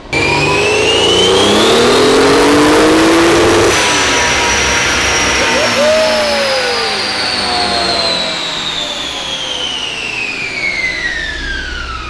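A Toyota 2JZ engine with raised boost revs hard on a dyno: a loud, close, rising wail that holds near the limit, then drops and revs again.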